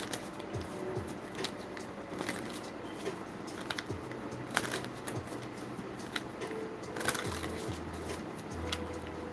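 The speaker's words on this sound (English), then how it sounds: "So I'm going to shuffle a few times" Tarot cards are shuffled repeatedly, a soft riffling and tapping that comes and goes close by, with no talking.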